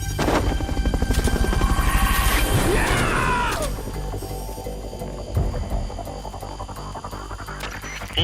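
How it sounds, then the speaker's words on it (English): A Fulton recovery helicopter in the Metal Gear Solid Peace Walker video game makes a loud, steady throbbing rotor drone with mechanical clanks and crashes, fading slightly in the second half with no voices. "Fulton recovery helicopter is complete."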